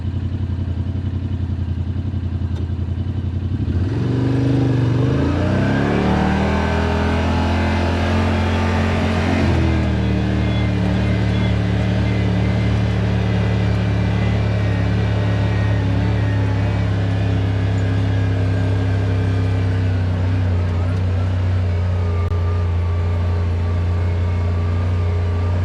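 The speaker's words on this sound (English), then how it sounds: "let off the gas, and just coast" Yamaha Rmax 1000 side-by-side with a performance muffler accelerating, then coasting downhill under engine braking, a loud, close engine drone that rises and falls in pitch before settling into a steady hum.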